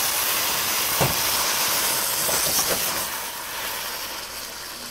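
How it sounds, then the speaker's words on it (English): Chicken stock poured into a hot stir-fry pan of Japanese eggplant, baby bok choy and wagyu beef sends up a loud, steady, close steam hiss with a few faint pops and crackles, easing slightly toward the end. "I'm gonna add just a little bit of chicken stock to kind of help you steam, make those vegetables"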